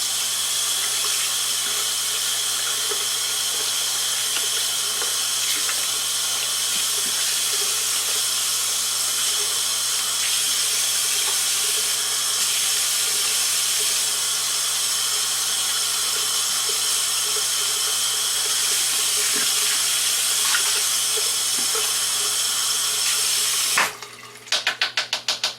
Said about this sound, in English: So now I'm going to rinse my brush off.